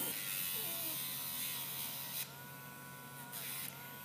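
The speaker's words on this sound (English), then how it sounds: "We're on the low speed of the Dremel, so it's not hurting." A Dremel rotary tool on low speed trims a dog's nails, a steady close electric whir that drops in level partway through and then comes back briefly.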